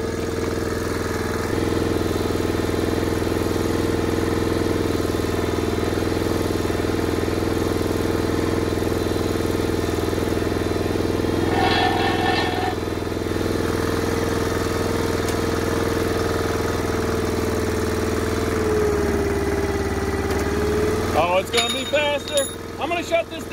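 Small gasoline engine on a hydraulic log splitter idling steadily at close range, a constant drone throughout that shifts and revs briefly near the end, with faint speech in the background.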